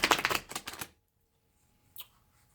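A deck of tarot cards is riffle-shuffled in a quick, crisp rattling burst lasting under a second, followed by silence and then one soft tap as the deck is cut.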